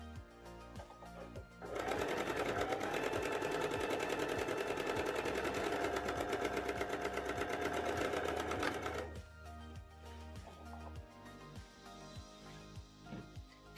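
A sewing machine stitches a pocket piece to the side seam of a pair of pants in one steady, loud run of about seven seconds, with quieter handling and clicks before and after.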